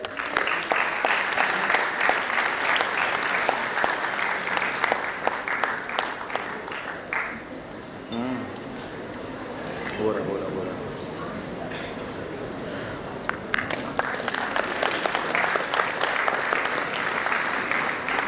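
An audience at a medical college convocation claps for a speaker, sustained dense applause with sharp individual claps and cheers, easing briefly in the middle before swelling again; some voices talk underneath.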